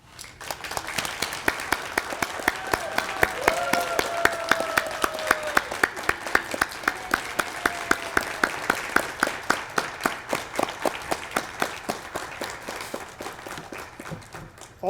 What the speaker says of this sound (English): stand, turn, and accept the applause of the audience